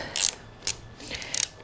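Ratchet with an 8mm socket working a pit bike handlebar grip loose, three quick close ratcheting bursts of clicks separated by short pauses.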